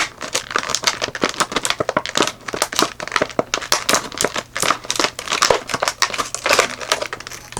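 Cardboard box packaging for a flashlight being cut and torn open, giving dense, irregular crackling, crinkling and snipping sounds close up, with a low steady hum underneath.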